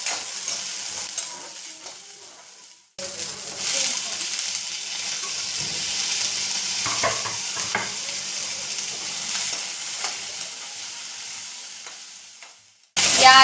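Onion, tomato and cashews fry in hot oil in a pan, giving a steady close sizzle that runs for several seconds with occasional stirring scrapes, after a brief quiet start.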